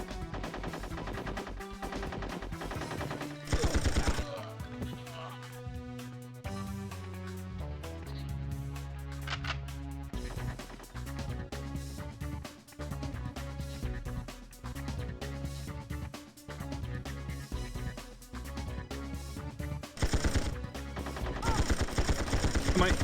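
Gunfire rattles through a busy mix of game music and effects in the 1999 video game 007: Tomorrow Never Dies. Repeated bursts and sharp shots punctuate the dense backdrop at a moderate level.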